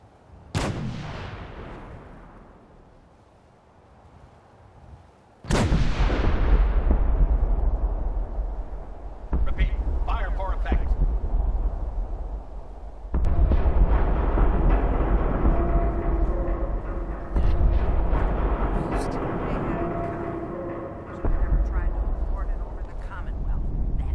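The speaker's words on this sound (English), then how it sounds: "Batteries, prepare to fire on my mark. 5, 4, 3, 2, 1, fire for effect!" An artillery barrage from the game Fallout 4 fires as sharp, heavy booms ring out and trail off, then build into a sustained, rumbling roar of shelling with repeated blasts for many seconds.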